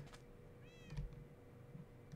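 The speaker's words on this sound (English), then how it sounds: "I heard a meow" A cat in the Minecraft video game gives a single clear meow at moderate level, surrounded by quiet game ambience and a few soft clicks.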